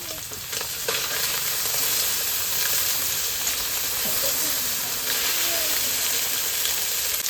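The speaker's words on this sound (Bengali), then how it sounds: "তো দেখো এখানে মাছের ভাজাটা করে নিচ্ছি" Fish frying in oil sizzles loudly and steadily up close, a dense hissing crackle that never lets up, with faint scraping underneath.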